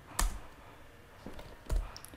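Computer keyboard typing while writing HTML code, a few sparse, close key taps over a quiet room hum.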